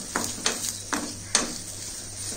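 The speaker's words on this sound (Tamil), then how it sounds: "கொஞ்சம் வதக்கிட்டே இருக்கணும், இல்லைன்னா தேங்காய் வந்து அடிப்பிடிச்சிடும்." Grated coconut sautés in a pan for a chickpea curry, a light sizzle broken by four or five quick scrapes as a spoon stirs it, with no one talking.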